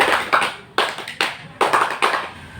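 Several sharp group hand claps in a counting clap game during a peer group counseling session, coming in uneven bursts with short pauses between them, close by and with no talking.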